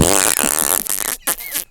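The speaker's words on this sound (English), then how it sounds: "Take a little bit of that fart." A loud, close fart rumbles and sputters for over a second, then cuts off with a couple of short trailing bursts.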